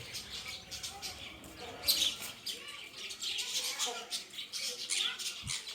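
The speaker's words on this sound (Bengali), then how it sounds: "পাখি" Light bird chirps and tweets scattered through a busy outdoor scene, mixed with background chatter and a steady hiss.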